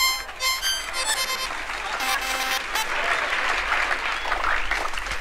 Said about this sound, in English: Let's give a big round of applause to Bobby Barrett Jr.